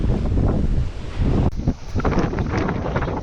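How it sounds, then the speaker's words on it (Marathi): Strong wind buffets the microphone on a rocky seashore near Malvan, a loud rumbling roar with surges of crashing waves against the rocks beneath it and no voices. "समोर दगडावर आदळणाऱ्या लाटा आणि सुसाट वाहणारा वारा"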